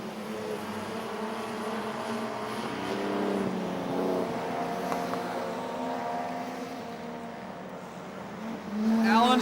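Modified production race cars lapping Maryborough Speedway, a steady engine drone with rising and falling harmonic tones as cars pass, growing louder near the end, under a commentator's running call.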